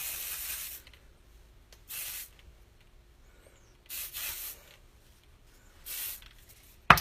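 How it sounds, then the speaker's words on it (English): Hairspray misted onto hair while styling a messy bun, coming in four short hissing bursts separated by quiet pauses, close and fairly loud, with a sharp tap at the very end. "I just use a little hairspray to make it stay."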